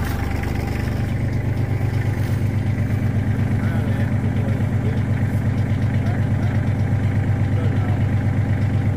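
A 2008 Massey Ferguson 1532 compact tractor's 33-horsepower diesel engine idles steadily nearby with a low, even rumble that doesn't change in pitch.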